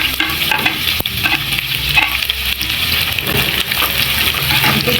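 Paneer fries with freshly added onions in a hot pan, making a loud, dense sizzle and bubbling with constant stirring and a sharp clack near the start.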